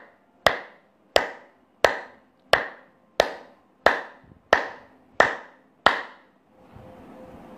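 Hands clapping firmly together as a yoga exercise, nine loud, crisp claps at a steady, slightly slowing pace close up, followed by a brief softer rustle.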